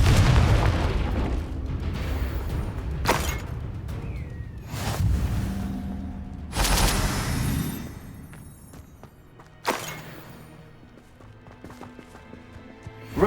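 Spell combat in Hogwarts Legacy with the Confringo fire spell: several heavy booming blasts and bursts in an irregular sequence, loud and close, separated by quieter stretches of rumble and game effects.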